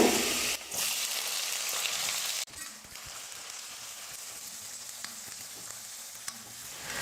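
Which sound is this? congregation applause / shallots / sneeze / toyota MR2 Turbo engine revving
shallots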